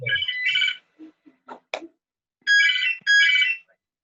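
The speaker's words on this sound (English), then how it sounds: "Is that somebody's phone?" A mobile phone ringtone goes off during an online sporting memories call, a bright electronic melody ringing in two short bursts separated by faint sounds and silence.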